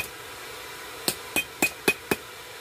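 A blacksmith's hammer strikes the welded area of a forged knife blade five times in a steady rhythm, each blow a sharp, ringing metallic hit, close and clear over quiet background hiss.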